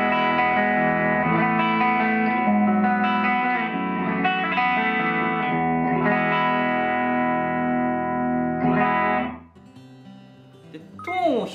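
A Suhr Pete Thorn Signature Standard HSS electric guitar played through its rear pickup, with distorted, effects-laden chords and sustained notes ringing continuously before a pause and a few final plucked notes.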